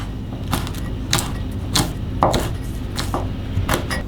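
Knife chopping finely through kaffir lime leaves, stems removed, on a cutting board: a run of crisp, irregular chops spaced about half a second apart, close and fairly loud, with no voices.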